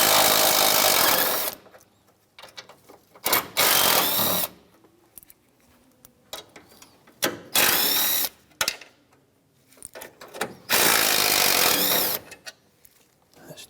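A 10mm socket ratchet backs bolts out of the top radiator support on a 2007-2013 Mitsubishi Outlander, with several loud, close bursts of rapid mechanical whirring and clicking separated by quieter pauses.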